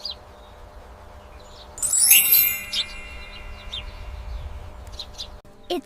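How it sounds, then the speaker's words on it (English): A sparrow gives a brief burst of high, bright chirps near the middle, moderately loud, with a few faint calls trailing after over a low background rumble. "It's a sparrow."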